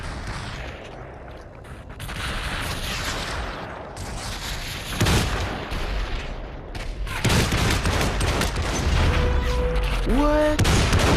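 Dense, continuous bursts of gunfire with heavy booming blasts during a shotgun fight in the VR game Population: One, loud and layered throughout, with brief electronic tones near the end and no clear talk.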